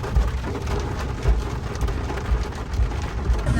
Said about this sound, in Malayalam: മഴ അത്യാവശ്യം നല്ല രീതിയിൽ പെയ്തോണ്ടിരിക്കുന്നു